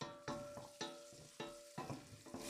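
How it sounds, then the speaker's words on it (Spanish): Garlic going into a pan of clams, with a loud close sizzle and frying crackle broken by several stirring scrapes spaced about half a second apart. "Ahora le voy a agregar el ajo."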